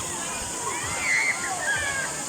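Water from a natural spring flows and sloshes steadily nearby, a continuous gurgling rush with no clear breaks.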